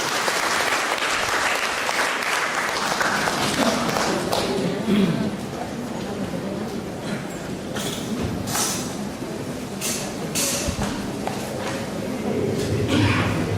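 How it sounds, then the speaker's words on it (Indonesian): An audience at a national mathematics seminar applauds to welcome Henry Rahim: dense, steady clapping from many hands fills the hall for the full stretch, holding an even level throughout. "Untuk itu kita beri aplaus kepada Bapak Henry Rahim."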